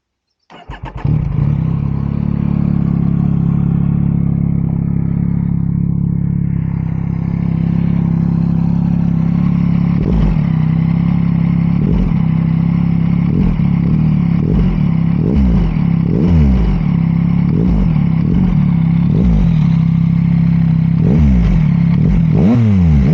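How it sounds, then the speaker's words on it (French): A 2021 Yamaha MT-09 motorcycle cranks and fires up, settling into a steady loud idle, then is blipped with a series of sharp throttle revs toward the end, close by with no speech. "Je vais vous la démarrer, tenez, pour le son"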